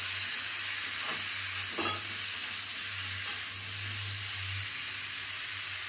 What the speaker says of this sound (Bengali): এবার আমি মটরশুঁটিগুলো দিয়ে দেবো।